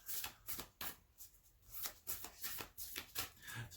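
A deck of oracle cards is shuffled by hand in a quiet room, giving a run of soft, quick riffling bursts and taps close to the microphone.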